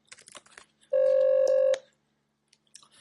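A single steady touch-tone dialing beep on a telephone call sounds for under a second, loud and close, between faint background noises.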